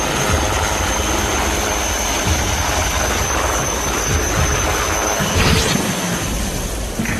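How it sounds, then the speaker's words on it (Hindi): HAL Dhruv advanced light helicopter in flight, a steady, loud rotor and turbine drone with constant whine, holding level throughout. "एडवांस्ड लाइट हेलीकॉप्टर ध्रुव अकेला ऐसा हेलीकॉप्टर है"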